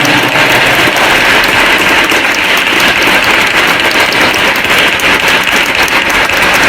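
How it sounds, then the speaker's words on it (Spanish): Loud, sustained applause from an audience thanking book authors at a presentation of a book on art and history of the San Bartolomé parish in Otzolotepec, dense clapping that fills the room without pause. "vamos a brindarle un fuerte aplauso a los autores"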